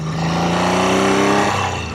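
A 1975 Triumph Trident T160 triple engine runs steadily close by, with a strong, even buzzing drone that holds for about two seconds, slightly swells mid-way and then eases off, with no voices.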